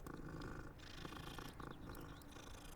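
Steady, continuous purring of a cat being petted in the Hogwarts Legacy video game, fairly loud and close, with faint game ambience beneath and no talking.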